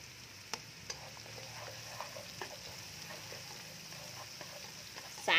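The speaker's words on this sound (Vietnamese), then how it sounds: "Các bạn đảo đều cái phần tỏi rồi mình cho hết cái phần xả này và xả cắt khúc vô luôn." Garlic and lemongrass frying in a pan while being stirred, a soft steady sizzle with light scraping taps of the utensil, ending in a louder burst as more ingredients go in.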